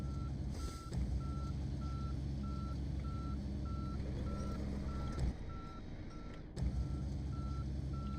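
A heavy truck's backup beeper in the snowy off-road driving game SnowRunner sounds a steady, evenly spaced series of high electronic beeps over a low engine drone.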